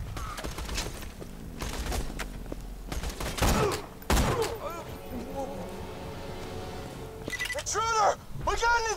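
Gunfire in the shooter video game Borderlands 2: scattered bursts of shots and sharp impacts crack over a busy battle mix, with some ringing, whooshing effects toward the end and voices heard in places.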